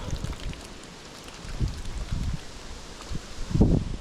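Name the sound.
strong wind in forest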